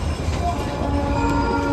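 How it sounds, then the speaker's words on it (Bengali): The Darjeeling toy train runs past houses close by on its way toward Chunabhati station, a loud continuous rumble of wheels and rattling carriages filling the moment, with no clear speech. "দেখুন টয় ট্রেনটি পুরো লোকের বাড়ির দরজার সামনে দিয়ে যাচ্ছে।"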